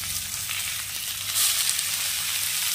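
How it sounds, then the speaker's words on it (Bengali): Onion, dried chili and boiled drumstick leaves fry in a hot kadai, giving a steady, close sizzle with a dense hiss that swells briefly midway, crackling on without any talk. "এগুলোকে ভালো করে ভেজে নেওয়া হবে একদম"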